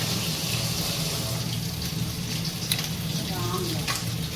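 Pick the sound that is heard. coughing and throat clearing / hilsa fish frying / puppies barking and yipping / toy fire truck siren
hilsa fish frying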